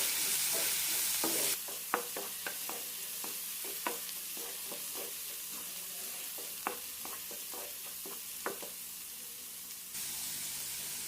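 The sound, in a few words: garlic, ginger and green chilli frying in a pan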